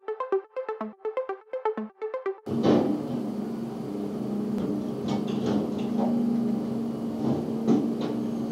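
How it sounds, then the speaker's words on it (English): A bright Serum saw-pluck synth arpeggio with seven unison voices plays a quick, even run of notes for about two seconds, then gives way to a noisy background of clattering construction sounds, with no talking. "it's just a basic saw pluck in Serum"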